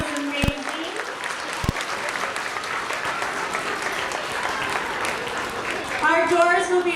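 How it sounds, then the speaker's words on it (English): A school crowd claps and cheers in steady, sustained applause at an elementary school closing ceremony, with a voice speaking briefly near the start and again as it ends. "give yourselves a big round of applause"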